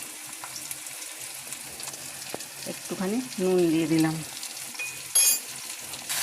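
Potatoes sizzle steadily in a pan as they are stirred, with a pinch of salt added; a person talks over the frying, and a short clatter sounds near the end.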